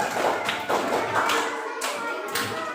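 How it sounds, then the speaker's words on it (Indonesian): A class claps hands together in a classroom, a few broad, rhythmic claps at moderate loudness with faint children's voices mixed in. "Tepuk tangan dulu untuk kita semua"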